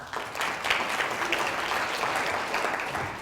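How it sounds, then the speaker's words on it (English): An audience of orthodontists at a study group talk breaks into a short round of applause, a steady wash of many hands clapping at moderate volume for about three seconds. "Give a round of applause."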